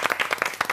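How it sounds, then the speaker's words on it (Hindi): A brief burst of audience clapping for the Multan cricket team, rhythmic hand claps from a studio crowd, short and fairly close. "मुल्तान के लिए तालियां।"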